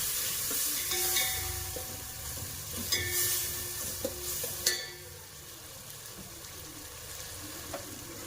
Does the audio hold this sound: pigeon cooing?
no